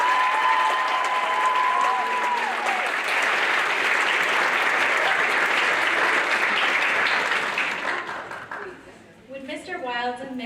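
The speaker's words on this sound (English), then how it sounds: "Would you please join me in a round of applause?" Warm, sustained applause from the crowd at a regional FFA awards ceremony, dense clapping that gradually thins and dies away, with a voice beginning to speak as it fades.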